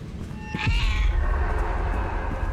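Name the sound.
cat meowing in a video game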